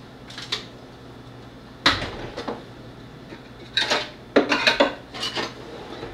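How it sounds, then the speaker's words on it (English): A metal bench scraper is picked up and worked over pasta dough on a countertop, giving off a series of sharp clatters and scraping knocks in uneven bursts. "And then I'm going to get my bench scraper."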